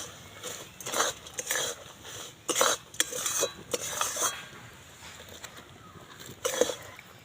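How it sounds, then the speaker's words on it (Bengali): Flattened rice (chira) stirred through melted jaggery in a pan, giving a run of close scraping and clinking strokes in an irregular rhythm, with no voices. "সব চিঁড়েগুলো গুড়ের মধ্যে দিয়ে দিলাম দিয়ে এবার এইভাবে নাড়তে থাকবো"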